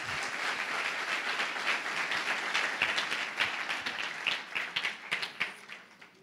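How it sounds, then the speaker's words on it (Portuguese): A church congregation at a Portuguese-language worship service applauds, a loud, dense wash of many hands clapping that thins into scattered claps and fades out at the end. "Vamos aplaudir o Senhor Jesus."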